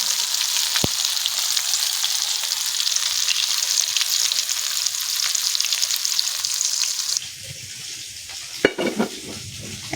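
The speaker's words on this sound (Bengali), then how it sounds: "এখন আমি মাছ ভাজাটা নামিয়ে নেব।" Fish fries in oil with a loud, steady close sizzle that dies away near the end, followed by a few clatters of handling, with no talk.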